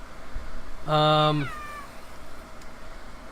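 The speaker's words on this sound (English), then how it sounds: "If you want to be here, I'm going to pet you. Moron cat." A house cat lets out one drawn-out, loud meow with a rising then falling pitch, close by, amid a quiet room where someone is recording speech.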